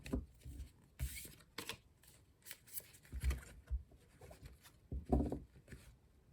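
Tarot cards are shuffled by hand in quiet, irregular bursts of riffling and sliding, soft and close with short pauses between handfuls.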